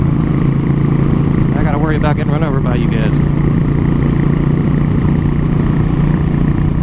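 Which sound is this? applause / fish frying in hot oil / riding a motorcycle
riding a motorcycle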